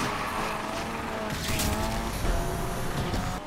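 Car tires squeal while drifting in Need for Speed Unbound, a screeching skid rising over a revving engine roar. The squeal swells and fades across a few seconds of continuous racing noise.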